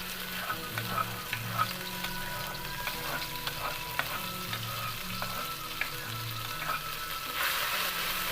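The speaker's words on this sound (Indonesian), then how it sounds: "Kita masukkan langsung aja ini bumbu halusnya, bumbu halus pikda basrengnya, masukkan semuanya." Ground spice paste for Sundanese pikda basreng sautés in hot oil in a wok, a steady close sizzle with repeated stirring and scraping strokes and low tonal hum underneath, no talking.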